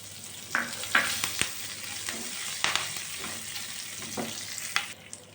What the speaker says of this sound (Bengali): আর আমি দিচ্ছি কুচি করে কেটে নেওয়া কারি পাতা।